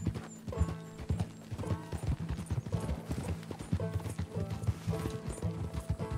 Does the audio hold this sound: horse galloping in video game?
yes